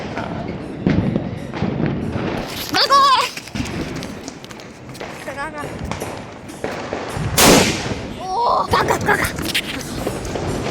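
Diwali firecrackers burst in a row of loud, sharp bangs, some close and some a little farther off, with crackling tails and whistling streaks between them and people talking underneath.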